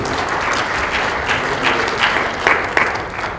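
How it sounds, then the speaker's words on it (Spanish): A conference audience gives a loud, sustained round of applause to welcome a speaker. Dense clapping fills the room throughout, with a few sharper claps standing out near the end. "Bienvenido, Gerardo, un aplauso por favor para él, para disfrutar."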